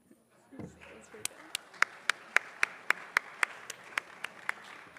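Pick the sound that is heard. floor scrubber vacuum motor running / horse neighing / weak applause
weak applause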